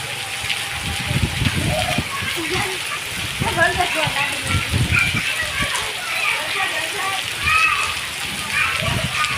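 Rain falls heavily in Dhandhuka with continuous splashing and gushing water, and voices, including a child's, chatter over it.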